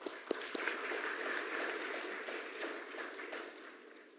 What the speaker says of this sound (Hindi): रक्तदान करने वालों के लिए ताली पहले तो।